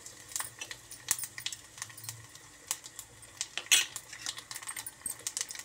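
Cumin, mustard seeds and dried red chillies tempering in hot oil in a small pan, giving faint, scattered crackles and sharp pops over a quiet background, with a few brief clinks of metal.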